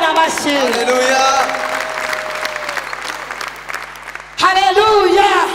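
A church congregation at EAR/DC Cathedral breaks into loud, sustained applause that fills the room, with a singing or chanting voice carried over it and a brief dip before the clapping surges back near the end.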